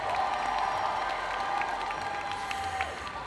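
Applause and cheering rise from a convention audience for a jury member at a cosplay contest, a distant, steady wash of clapping and crowd voices with a faint tone running over it.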